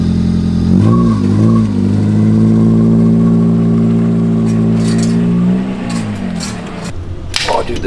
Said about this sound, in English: Idling a little high.